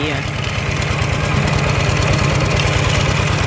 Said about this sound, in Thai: กำลังขี่รถไถนะ